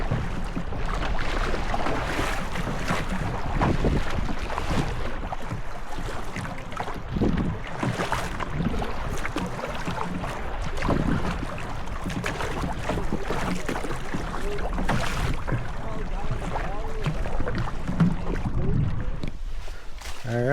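Wind gusts buffet the microphone during a canoe trip on the Raquette River, a loud continuous rushing roar with bursts of wind noise and faint water sounds beneath.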